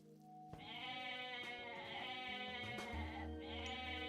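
Goats in the Age of Mythology video game bleat with a steady, sustained cry that wavers in pitch over a low game background hum, with no talking.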